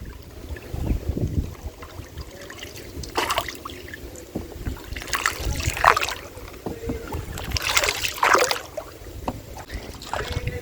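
Rowing boat moving along a river on Sabuj Dweep, Hooghly, with soft water splashes and oar strokes recurring every few seconds over steady outdoor ambience and light wind, fairly close.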